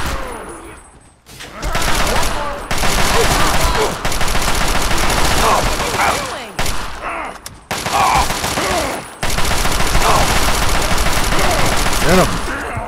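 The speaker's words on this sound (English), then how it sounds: "Gotta shoot him." Rapid bursts of gunfire from shooting an enemy in Fallout 3, loud, dense and nearly continuous with short pauses between volleys, and a voice talking over the shooting.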